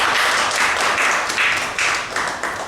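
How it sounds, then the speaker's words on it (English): Sustained applause from an audience at a heritage and education talk, a steady dense patter of many hands clapping close by with no voices over it. "a big applause for Bashabi."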